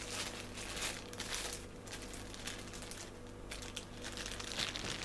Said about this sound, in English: Probably get that rustling.